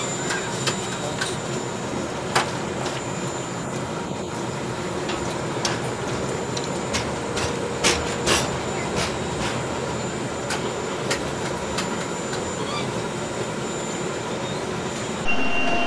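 Asansol Gonda Express passenger train running along the line, a steady broadband rumble of wheels on rails with repeated sharp clicks and ticks from track joints, continuous through the whole stretch with no talking.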